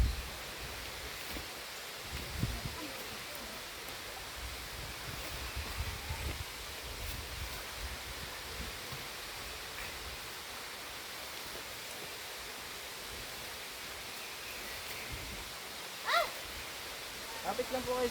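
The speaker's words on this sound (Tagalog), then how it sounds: "Dinig na yung agos ng falls." A waterfall on a Mt. Romelo hiking trail sends out a steady, distant rush like broad hiss, heard continuously beneath people talking and moving nearby.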